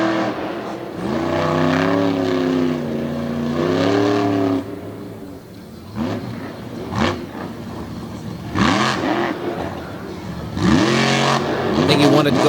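A monster truck engine revs at a Lake Erie Speedway show, roaring in surges that rise and fall, with a commentator talking over it between the bursts.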